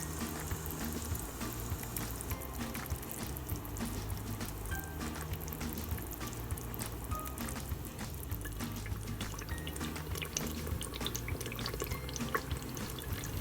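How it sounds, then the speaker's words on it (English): Clear homemade coconut oil is poured after cooking, giving a faint, continuous trickle with soft drips and light bubbling throughout, close and quiet with no talking. "So we like to start pouring it there, because then the oil is nice and clear"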